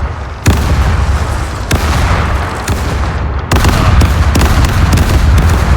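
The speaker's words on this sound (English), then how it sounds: "Still not getting full volley." Ship cannons in the Caribbean Legend video game fire a volley as loud, sharp booms spread across several seconds, four or five separate blasts with rumbling tails between them.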